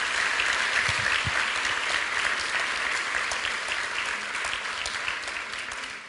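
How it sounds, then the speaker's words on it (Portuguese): Dense, steady applause fills a church couples' congress as a large congregation claps together, loud and sustained for several seconds before easing slightly at the end. "Dá uma salva de palmas ao Senhor."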